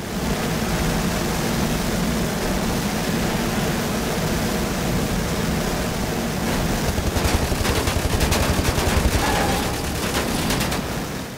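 Explosion followed by bursts of gunfire in the video game Wolfenstein: The New Order, a dense, loud roar of blasts with rapid crackling shots in the latter half, no clear speech.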